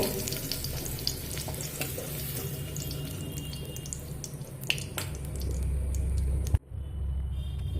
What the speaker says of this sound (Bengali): এইভাবে ভেজে নেব দেখুন কিসমিসগুলোও ভাজা হয়ে গেছে